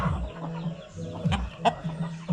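A large caged breeder chicken, around five kilos, clucks and murmurs close by in a few short, soft bursts against a low, steady background rumble.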